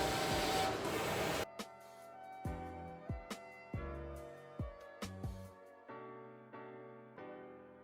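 A label printer feeds and cuts hand sanitizer labels: a loud initial whir, then a series of irregular close mechanical clunks and cutter snaps with short motor hums between them.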